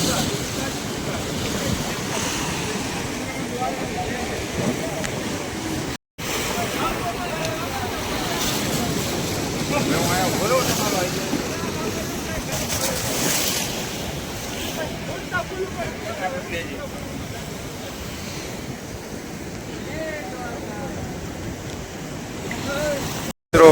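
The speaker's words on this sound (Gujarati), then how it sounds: "વિશાળ આમ દરિયો એમ કેવાય કે ઘૂઘવાટા સાથે વહી રહ્યો છે પવનનો વેગ અતિ આમ કહેવાય ને જોરદાર છે" The sea at Dwarka surges with heavy waves as strong wind buffets the microphone in a steady loud roar, with faint indistinct voices under it.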